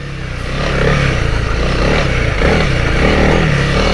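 A Honda CRF300L dirt bike fitted with KTech suspension being ridden, its engine droning loud and close with a steady rough thrum after a quick rise at the start.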